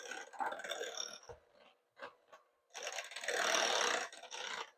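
An electric hand mixer whips mashed potatoes in a holiday dinner kitchen, a steady whirring drone that stops briefly, sputters, then resumes loud and close.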